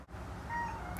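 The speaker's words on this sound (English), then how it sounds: "Did you guys hear that? Meow." A cat lets out a faint, thin meow over a low steady background hum, brief and slightly distant, with no talking.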